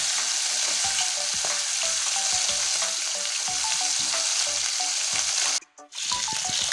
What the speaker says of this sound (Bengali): মাছের মাথা তো ভালো করে ভাজতে হবে না হলে ভালো হবে না